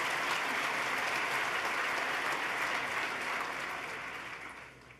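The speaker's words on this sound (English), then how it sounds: "Let's give her another round of applause" A large audience at a state government address applauds, a dense, even wash of clapping that holds steady and then tapers off toward the end.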